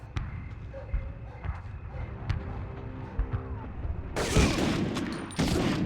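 Bursts of gunfire in the video game Medal of Honor, scattered sharp shots over game ambience, then a dense, louder flurry near the end, with no talking.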